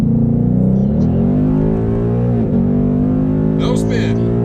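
A C7 Corvette pulls hard through a 60-130 roll race, its engine holding a loud, strained roar with a brief dip as it shifts, while people talk over the noise.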